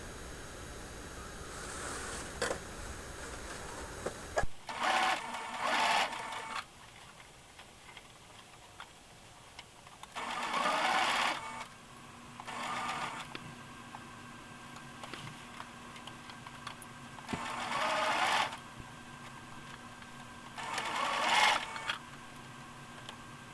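Sewing machine stitching a gathered petticoat together, heard as several short, loud bursts of running separated by quiet pauses.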